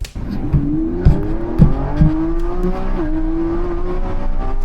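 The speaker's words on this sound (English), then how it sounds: "that is Marques Brownlee driving what I'm almost certain is a Lamborghini Revuelto and getting up to almost 100 miles per hour" A Lamborghini Revuelto accelerating hard to nearly 100 mph, its engine note climbing steadily with a couple of shift breaks, loud and close from inside the car.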